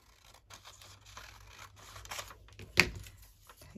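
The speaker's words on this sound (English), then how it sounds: "Take that off and then just tear it." A single short rip of a book page torn by hand is heard up close and fairly quiet, after faint rustling of paper craft materials.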